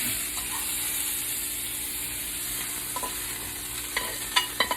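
Spinach sautéing in avocado oil with a little salt gives a steady, fairly soft sizzle, with a few sharper utensil clicks near the end and no talk over it.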